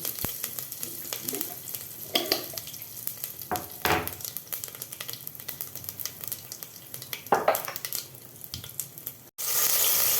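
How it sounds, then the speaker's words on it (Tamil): Mustard seeds, curry leaves, cumin and pepper crackle and sizzle in hot oil for a mutton kudal varuval, with sharp irregular spits and pops over a low fry, close up and without speech. "கடுகு நல்லா பொரிஞ்சதுக்கப்புறம் கறிவேப்பிலை ஆட் பண்ணிக்கிறேன் அதோட ஜீரகம் கொஞ்சம் மிளகு"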